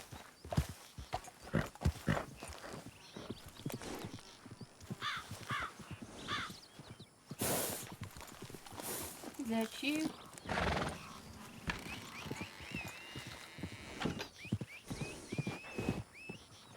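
A horse named Teddy whinnies and clip-clops amid a rough audio-drama scene, with crow-like caws and bursts of noise mixed in, while people talk over much of it.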